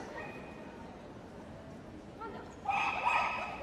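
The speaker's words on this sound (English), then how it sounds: "This is a miniature Parti Poodle." A miniature Parti Poodle running a Crufts agility course gives short yipping barks, most clearly in a louder burst near the end, under steady arena commentary and crowd noise.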